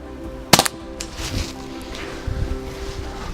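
A Walther CP99 pistol fired while plinking, one sharp close report, then fainter pops and a rustling background.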